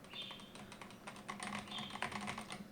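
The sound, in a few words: typing on Razer V3 Pro TKL gaming keyboard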